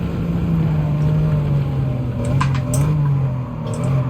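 Racing car engines in Gran Turismo 7, a BMW pair against a Mercedes, a steady loud droning engine note that shifts slightly in pitch, with brief higher whines and tire-like bursts partway through.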